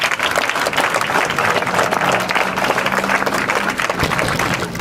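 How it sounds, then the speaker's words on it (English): An audience at a statue presentation breaks into sustained applause, dense and steady throughout, with many hands clapping close at hand and a few faint crowd voices mixed in. "let's give them a round of applause as well"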